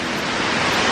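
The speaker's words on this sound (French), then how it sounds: "On est à la forêt des cascades." Waterfalls in the Akame forest in Japan roar as a loud, dense, constant rush of falling water, close and unbroken, with no voices.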